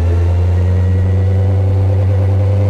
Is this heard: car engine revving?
yes